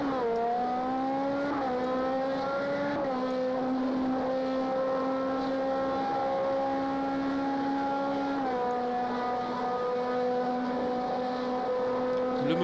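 Race car engine in Project CARS 2 at Le Mans, a steady loud high-revving drone that holds its pitch, with brief dips and rises at gear shifts across the whole stretch, alone with no talk.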